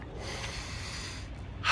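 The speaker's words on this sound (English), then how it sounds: "Let's take a deep breath together." One deep breath during a group meditation, a soft close airy draw of air rising slightly at the very end, faint and alone.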